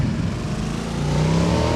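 A motorbike engine in a video game revs in a loud, steady drone that rises slightly in pitch, up close and continuous with no talking.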